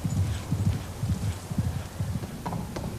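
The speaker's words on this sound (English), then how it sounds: "But horses remain, used now only for hacking and kept at the stables" Horses' hooves clip-clop at a Hampshire stable where the animals are now kept for hacking, a steady uneven patter of close, fairly loud footfalls on a hard surface with no talk over it.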